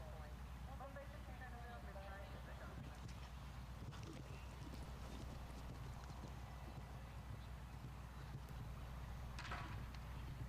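A show jumping horse canters across arena ground, its hooves beating a steady clip-clop rhythm under a faint murmur of distant crowd and commentary.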